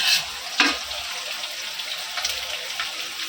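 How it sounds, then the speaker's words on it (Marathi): Green chillies and curry leaves roast in hot oil for chivda, giving a steady, close sizzling hiss with a couple of brief clinks early on. No voices. "मिरची कडपत्ता चांगला भाजून घ्यायचं"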